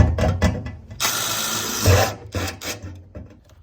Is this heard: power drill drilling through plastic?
yes